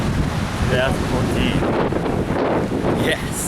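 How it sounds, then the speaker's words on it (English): Strong wind buffets the microphone on a very windy beach by the Indian Ocean, a constant roar with surf noise underneath while a person talks over it. "a very windy beach"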